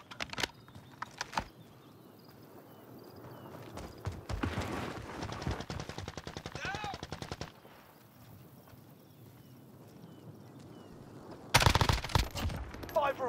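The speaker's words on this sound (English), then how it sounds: "Great shots, Jordan." Bursts of automatic gunfire in the Warzone video game, rapid rattling volleys in the middle and a sharp loud burst near the end, between quieter stretches of game sounds.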